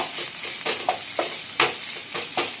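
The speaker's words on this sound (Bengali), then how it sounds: "এর মধ্যে এবার দেব হলুদ গুঁড়ো, দিয়ে একটু নেড়ে নেব।" Turmeric powder is stirred into spices frying in a pan, soft sizzling broken by a handful of close scraping stirs at irregular intervals.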